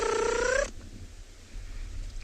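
A voice imitates a bird's booming display call likened to an elephant trumpeting, heard on a South African morning safari: one loud, rising, strongly harmonic blast lasting under a second, then low background rumble.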